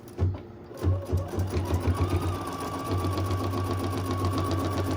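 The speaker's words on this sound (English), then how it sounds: "this is gonna stitch a grid across this fabric" Embroidery machine stitching a grid across fabric held in a hoop, a loud, close, steady rhythmic needle hum after a couple of starting thumps, running continuously without talk.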